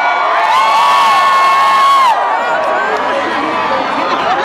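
A large concert crowd at a show cheers and whoops loudly, with high shrill screams holding for about two seconds before settling into a rowdy roar.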